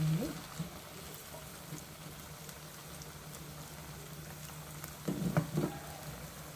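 Potato vadas fry in hot oil with a soft, continuous sizzle, faint and close, briefly rising in a bubbling flare near the end.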